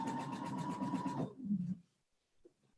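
A sewing machine stay stitching around the edge of knit fabric with a regular stitch, running steadily and close for over a second, then stopping and leaving a brief low rustle before near silence.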